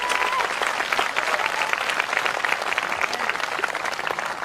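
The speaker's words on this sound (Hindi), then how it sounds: "आइए हम अपने खुदा के लिए एक अच्छी ताली बजाएं।" A church congregation claps together at a worship service, a dense, steady wash of applause that carries loud and unbroken from start to finish, with no talk over it.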